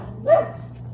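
A dog gives one short, close bark or yip, a brief burst against a low steady hum, with quiet surroundings before and after.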